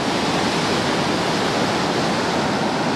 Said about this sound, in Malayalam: കടൽ വന്ന് ഈ പാറയിലടിച്ച് പതഞ്ഞൊഴുകുകയാണ് ശരിക്കും